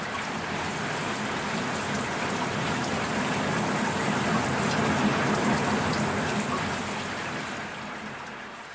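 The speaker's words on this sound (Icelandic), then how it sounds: "fór að rigna eins og hellt væri úr fötu" Heavy rain pouring down, a dense, loud, steady hiss of countless drops hitting surfaces, holding constant before easing slightly at the end.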